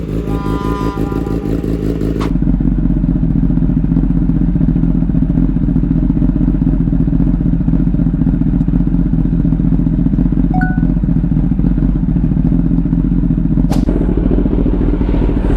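Kawasaki ZX-10R sport motorcycle being ridden, a loud steady engine drone with wind rush that holds almost unbroken after a brief quieter start, close and without speech.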